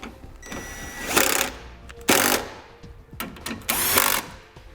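A socket wrench tightening bolts with a 10mm socket while installing a Roadmaster Direct-Connect base plate, several short bursts of ratcheting and whirring close by with quiet gaps between.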